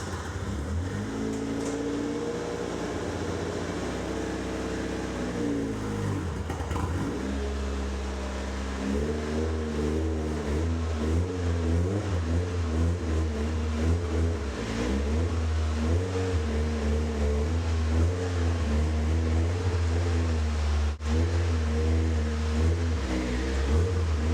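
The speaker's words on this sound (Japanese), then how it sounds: "それでは実際に車両をスロープの上に乗せたいと思います。" A car's engine revs steadily as it is driven up a set of ramps to its highest step before being jacked up, a sustained mid-pitched drone with rising pushes of throttle and no talking.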